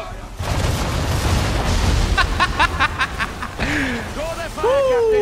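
British gunboats fire cannons in an Assassin's Creed III naval battle, heavy booming blasts and a quick run of shots rolling under excited talk and in-game voices.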